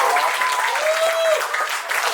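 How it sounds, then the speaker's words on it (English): An audience at a book talk at The Bookworm applauds steadily for a speaker, a dense, even wash of clapping lasting throughout with a few faint tonal whistles riding above it. "let's give a huge applause to her"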